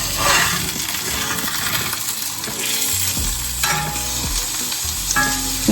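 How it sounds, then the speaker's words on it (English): Salmon fillet frying in a pan with a steady close sizzle, mixed with soft scraping and a light clink of utensils against the pan. "So you see the salmon is cooking."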